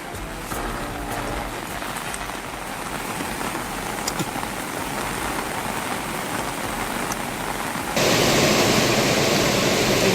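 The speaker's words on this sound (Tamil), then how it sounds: "காளையார் கோவில், இளையான்குடி, காரைக்குடி உள்ளிட்ட பகுதிகளில் மழை பொழிந்தது" Heavy monsoon rain pours in a steady, dense hiss that fills the scene, growing louder and harsher toward the end, with no voices.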